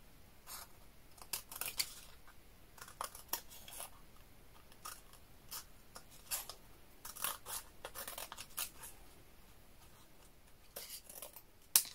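Paper tag being cut out with scissors, a string of close, crisp snips and rustles in short bursts with pauses between, no talking.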